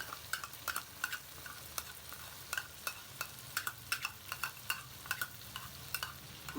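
About 150 grams of butter goes into sizzling beef makhni karahi, and rapid clinking stirs of the spatula against the pan repeat in a steady rhythm over a low, faint sizzle.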